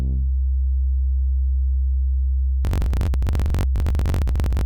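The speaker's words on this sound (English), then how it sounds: "after the short delay, you can hear unaffected sine wave" A steady, clean low sine tone from a Voltage Modular patch hums alone at first, then harsh crackling bursts cut in over it in choppy, irregular stretches.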